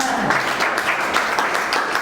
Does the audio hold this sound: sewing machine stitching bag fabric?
no